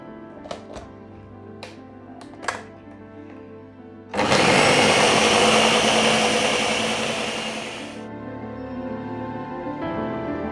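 A few light clicks, then a blender whirs loudly for about four seconds, its motor straining on thick peanut butter before cutting off.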